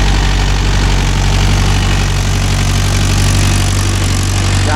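A Mahindra Yuvo Tech Plus 585 4WD tractor pulling a cultivator runs at a steady loud low diesel drone, close and continuous with no pauses.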